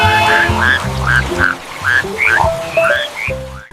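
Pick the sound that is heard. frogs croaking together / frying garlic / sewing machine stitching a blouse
frogs croaking together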